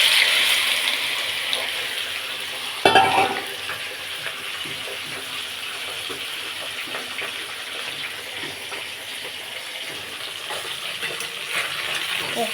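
Shrimp dropped into hot oil in a pan on the stove hiss and sizzle, a brief burst of crackling followed by a steady, soft frying wash that continues to the end.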